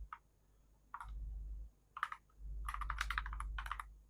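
Keys on a computer keyboard tapped while Python code is entered, in short bursts of quick clicks separated by pauses, fairly close, over a low steady hum.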